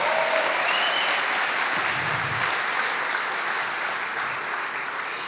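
A church congregation applauds loudly and continuously, a dense wash of clapping that fills the whole moment and tapers only slightly toward the end.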